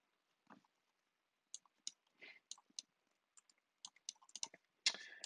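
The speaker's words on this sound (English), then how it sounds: "You type in the name here." Keystrokes on a computer keyboard while entering a customer name in storage-facility access software, heard as sparse quiet clicks in short irregular bursts with pauses between, ending in a slightly louder cluster.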